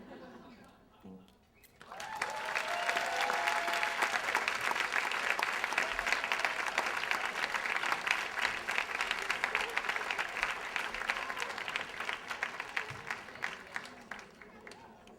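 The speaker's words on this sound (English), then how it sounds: "another round of applause for Alethea Black." A storytelling event audience breaks into loud, dense applause that swells after a brief pause and holds steady, a full crowd clapping together with occasional voices underneath.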